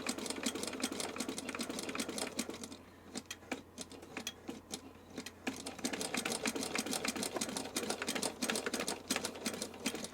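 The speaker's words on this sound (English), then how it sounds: "I've been holding this down with my finger while I turn the hand wheel. Let's see if we can make a stitch." Sewing machine turned slowly by its hand wheel to form a stitch, giving soft, close, irregular ticking and clicking that pauses briefly midway before continuing, with no talk.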